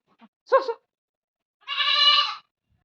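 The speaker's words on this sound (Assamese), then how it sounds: "ছাগলী সোমাই গ'ল ভিতৰত।" Goat bleating at a rural home, a short wavering call followed after a pause by a longer, strained bleat, close by and clear against a quiet background.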